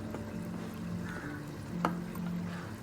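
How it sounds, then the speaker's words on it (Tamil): A little water poured into cornflour in a kitchen while making tomato halwa, a soft, steady trickle and slosh with a brief splash near the middle, fairly close and without voices. "அந்த கார்ன்ஃப்ளவர் மாவு வச்சுருக்கோம்ல அது சும்மா கொஞ்சமாக தண்ணி ஊற்றுங்க ரொம்ப தண்ணி ஊற்றாதீங்க"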